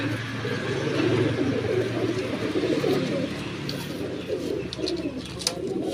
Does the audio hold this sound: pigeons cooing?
yes